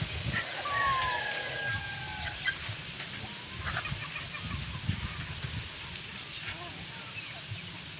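Roosters and hens clucking around outdoor feeding, with scattered calls and clucks over steady farmyard background noise; a few brief higher bird calls appear near the start.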